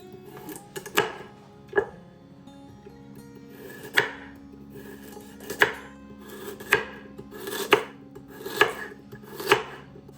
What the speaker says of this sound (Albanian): Pasi kemi përfunduar me prerjen e perimeve